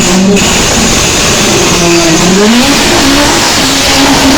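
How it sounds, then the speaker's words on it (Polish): A loud rally car engine roars continuously at a rally in Korczyna, 2021, its pitch rising and falling as it revs hard, with no voices present. "tej muzyki, tego ryku silnika"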